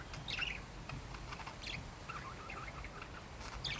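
Several budgies chirping outdoors, with scattered high tweets and brief calls over a steady background hum, moderately close but fairly faint.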